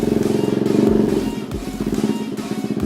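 A 2017 Yamaha Aerox 155 VVA scooter ridden in slow loops, its engine droning steadily near the listener. The throttle rises and falls, and the rev pitch swells and dips through the short pass.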